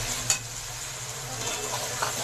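Tomatoes, black pepper and salt roast in a hot pan, a quiet steady sizzle with a couple of sharp clinks of a spoon against the pan, and no voices.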